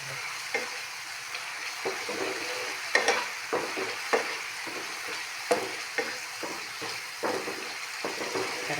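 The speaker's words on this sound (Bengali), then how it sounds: "ভালোভাবে নাড়বেন, নাড়ার পরে একটু শক্ত হয়ে আসবে" Food cooking in a pan is stirred over and over, giving a run of scraping, tapping strokes over a soft, steady sizzle.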